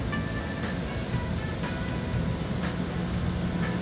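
A cargo ship's main engine runs at full speed ahead, heard as a loud, dense, unbroken mechanical roar with a faint regular pulsing throughout.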